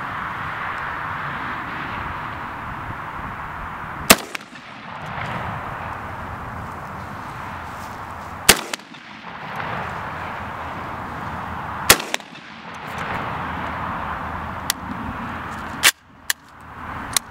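Several sharp, loud gunshots from a VPO-205 rifle with Lyman bullets ring out several seconds apart, each cracking over a steady background rumble, with a couple of quicker shots near the end.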